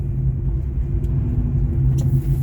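Rear-wheel drive sports car cruising, its engine giving a steady low rumble close by with a couple of faint ticks over the drone and no talk.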